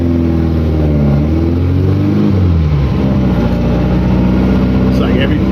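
A VW Beetle called Herbie, fitted with a 1914cc 180hp stroker engine, drives along with a steady, close engine drone whose pitch climbs, dips around a gear change, then settles into even cruising.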